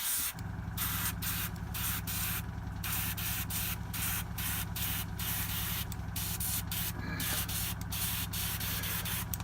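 An airbrush loaded with paint hisses in steady, broad spurts, sharp interruptions breaking the spray into irregular bursts over a constant low compressor drone, close and loud.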